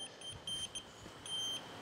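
A handheld gas leak detector beeps in short high-pitched electronic tones near a leaking gas hookup on an outdoor kitchen, with several quick beeps followed by a longer sustained tone, close and clear with no talking.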